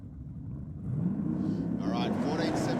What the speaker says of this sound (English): Good side by side burnouts here